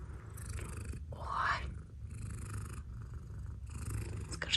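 A domestic cat purrs steadily after finishing a meal of sausage, a continuous low rumble with soft rhythmic breaths, close and alone at a quiet indoor setting.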